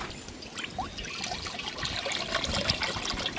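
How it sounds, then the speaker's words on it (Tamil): Cooking oil is poured in a thin, steady, trickling stream for frying pond fish in a village kitchen, close and fairly loud, with no talking. "மீன் பொறிக்க ஆயில் ஊற்றிக்கோங்க"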